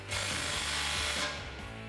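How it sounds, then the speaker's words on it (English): A ratchet clicks rapidly and steadily, close up, tightening a muffler clamp on a 2019-2021 RAM 1500 dual exhaust system. "at that point, we can tighten down the muffler clamp"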